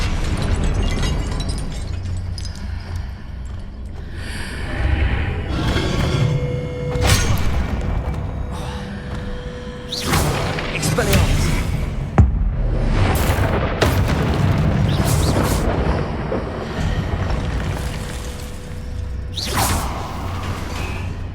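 Spell explosions from Confringo in the video game Hogwarts Legacy: repeated booming blasts and whooshing bursts over a dense game soundscape, loud and close, with no talking.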